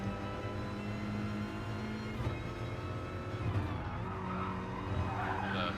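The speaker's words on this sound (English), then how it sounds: "As we ride on board with Catch, enjoying the awesome in-car camera action of an Alfa Romeo 4C" Onboard an Alfa Romeo 4C on a race track, its engine droning steadily while tires squeal and skid through corners, with a faint voice underneath.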